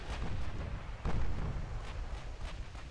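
A torpedo strikes the stern of a warship in the naval battle game Ultimate Admiral: Dreadnoughts, a heavy, rumbling explosion with a deep boom about a second in, followed by a rolling, sustained low roar.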